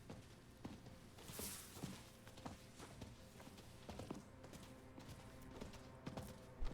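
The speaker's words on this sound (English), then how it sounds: "The horse riding is just removes so much of the tedium" Horse hooves in the video game Diablo IV clip-clop at a steady trotting rhythm, quiet and a little distant, with light game-like background noise and no speech.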